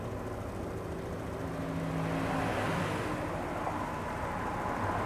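Honda Vario 125 scooter engine idling around 1500 rpm, a dense continuous close-up mechanical hum that swells slightly partway through and then holds steady.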